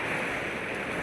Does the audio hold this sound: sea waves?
yes